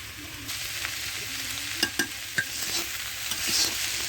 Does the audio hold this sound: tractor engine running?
no